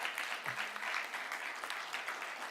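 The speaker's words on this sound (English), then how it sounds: "Can we give ourselves a round of applause again," Members at a parliamentary meeting of women parliamentarians clap together in a quiet, continuous round of applause, an even crackle of many hands heard from a distance, with a brief low thump near the start.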